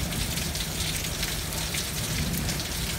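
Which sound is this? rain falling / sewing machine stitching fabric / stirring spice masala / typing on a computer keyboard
rain falling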